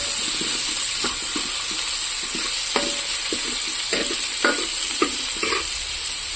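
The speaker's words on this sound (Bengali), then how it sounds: "তো ফুলকপি আলুটা ভাজা ভাজা হয়ে এসছে।" Cauliflower and potato pieces fry in a pan with a steady, even hiss, while a spatula stirs them with scattered scraping knocks and clicks.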